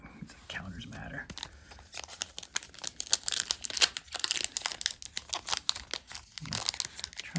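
Collectible card packs for a dragon-themed card game being torn open and crinkled, plastic wrappers rustling and ripping in quick irregular bursts, fairly close and moderately loud, with a soft voice murmuring underneath.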